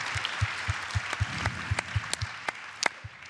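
A small audience claps for award winners at an evening laureates' ceremony, with sparse, distinct hand claps and a few sharper near claps standing out over a quieter patter.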